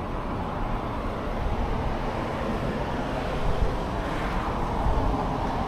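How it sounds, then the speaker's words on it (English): Strong wind blowing outdoors on a Myrtle Beach town street, a steady loud rushing roar buffeting the microphone throughout with slight surges, no talking. "Now you can tell the wind is really blowing."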